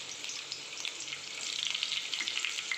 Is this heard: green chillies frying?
yes